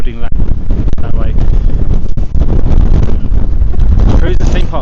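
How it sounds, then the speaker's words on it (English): Strong gusts buffet the microphone in loud, rumbling bursts on a London street near Pudding Lane, with muffled talking partly buried beneath the roar. "It's really windy here"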